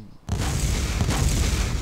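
Mortar explosions in the video game DayZ, after a brief quiet start, become a dense, loud, continuous rumbling roar of overlapping booms with no pause.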